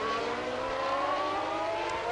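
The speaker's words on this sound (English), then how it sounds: "Not giving it full revs down the pit lane though, Allard." Renault V10 Formula 1 engine held below full revs in the pit lane, a steady high-pitched whine sustained for about two seconds with little change in pitch.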